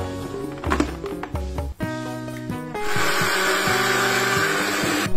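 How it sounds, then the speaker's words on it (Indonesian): An electric blender churns three carp bait ingredients mixed with egg, kicking in partway through as a loud, steady whirring roar after some earlier tonal clatter. "Nah, sesudah itu kita langsung aja blender dulu ini ya, ketiga bahan ini."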